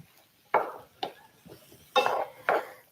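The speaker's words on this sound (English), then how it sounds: "we're gonna stir that all together" Potatoes and mixed vegetables being stirred together in a pot, with a spoon knocking and scraping in several distinct bursts separated by short pauses, fairly close and moderately loud, with no talking.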